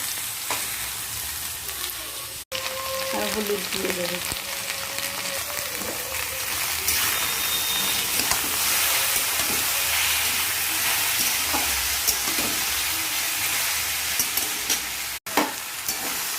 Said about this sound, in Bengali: কিছুক্ষণ নাড়াচাড়া করে ভাজা ভাজা করে নিলাম।